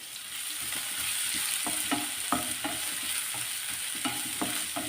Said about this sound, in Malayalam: ഇഞ്ചി വെളുത്തുള്ളി സവാള ഇതെല്ലാം കൂടെ നമുക്കൊന്ന് വഴക്കിയെടുക്കാം